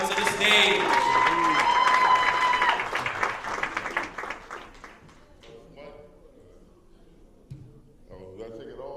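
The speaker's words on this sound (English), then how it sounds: "Everybody, a round of applause for Boo the Fool coming to the stage." Audience applause and cheering at a poetry slam held in a church, loud and dense at first, then fading after a few seconds as a voice speaks over the thinning claps.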